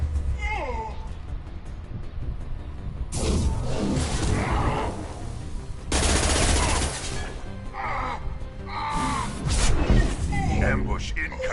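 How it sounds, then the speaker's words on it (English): Mass Effect Legendary Edition combat: bursts of rapid gunfire and impacts in dense clusters, loud and near, mixed with voices speaking over the shooting. "Taking fire."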